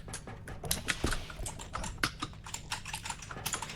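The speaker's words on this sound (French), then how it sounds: "Pendant que j'entends GPA défoncer son clavier" Keys on a computer keyboard are struck hard and fast during an online game session, giving a dense, irregular run of sharp clacks at close range for several seconds, with no speech over them.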